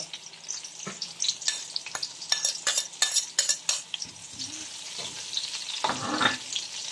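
Onions frying in a pan, heard as a low sizzle broken by clattering spoon or spatula scrapes and stirring knocks, close and fairly quiet, with no talk.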